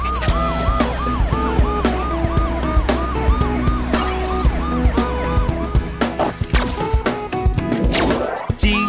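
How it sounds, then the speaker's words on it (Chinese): Police car siren in a 3D children's cartoon about transforming super cars, its repeating wee-woo pattern looping over busy music and percussive hits before breaking into a rising sweep near the end. "警车警车滴滴呜滴滴呜"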